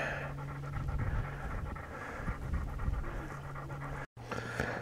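Dogs pant quickly and rhythmically nearby, a continuous breathy huffing that cuts out for a moment near the end.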